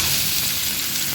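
Chopped white onion sizzles loudly and steadily in hot oil in a pan, a constant close hiss with no break.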